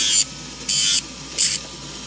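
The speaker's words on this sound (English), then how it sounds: "Now I'm gonna take a sanding disc" Three short bursts of high, hissing abrasive grinding from a rotary sanding disc on metal while making jewelry, each a fraction of a second, separated by quiet pauses; close and fairly loud.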